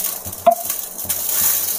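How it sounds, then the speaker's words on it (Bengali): Ghee poured into a ladle heated over a gas flame gives a short, close sizzle and hiss, with a metallic clink and light scraping around it. "একটা হাতা আমি এরকম গরম করে নেব গ্যাসের উপর, তার উপর দিয়ে দেবো ঘি।"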